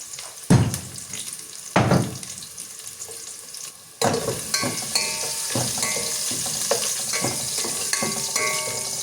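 Crushed cardamom pods go into a hot pan for a Tamil lunch dish: a few heavy thumps of pounding come first, then a bright, crackling sizzle and steady frying.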